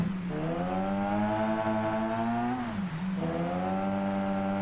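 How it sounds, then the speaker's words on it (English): A race car engine in the Automation driving game, running during a qualifying race on the Nordschleife: a loud, steady tonal drone that holds its pitch, dips briefly as the revs drop, then climbs back and holds. "It seems like a beautiful engine sound"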